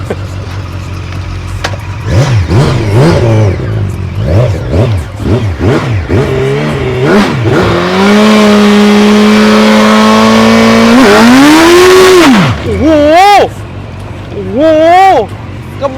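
A loud motorcycle engine revs up and down in repeated bursts, then holds a long high whine before dropping off, with voices near the end.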